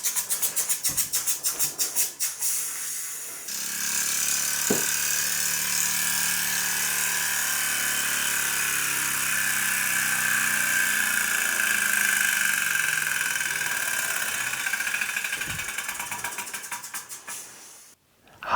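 Sterling kit vertical Hero's steam engine running on methylated spirits, a steady mechanical whirring hiss held throughout after a few rattling ticks, with faint clicks and knocks, close and alone.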